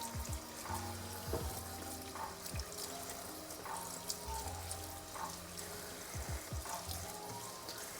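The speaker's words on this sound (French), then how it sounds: "Donc là, on rince, on frotte bien." Chard leaves are rinsed and scrubbed under a running kitchen tap, water pouring steadily into a sink with wet splashes and handling noises, close and moderately quiet, no voices.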